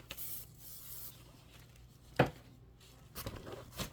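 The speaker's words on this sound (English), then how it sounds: "I'm going to spray my background fabric." Adhesive sprayed onto quilting background fabric and batting: a couple of short hissing spray bursts amid faint handling rustle, close and fairly quiet.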